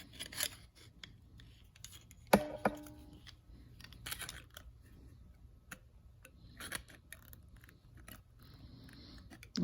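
Small cutting snips and clicks as a tiny surfboard shape is cut out for a miniature model, sparse and quiet with irregular pauses between cuts and one sharper snap.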